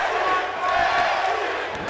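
A wrestling arena crowd in a WWE 2K18 NXT match at Full Sail roars and cheers continuously, a dense, loud wall of voices throughout.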